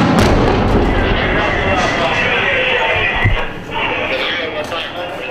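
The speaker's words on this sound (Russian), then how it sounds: "Определите, откуда они стреляют" Gunfire and explosions during a combat operation alongside a T-72 tank, with sharp cracks and a loud low thump over dense rumbling noise, while people talk throughout.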